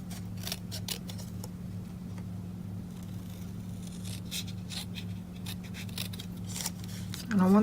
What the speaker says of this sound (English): I'm actually just going to bring my scissors in and cut that down.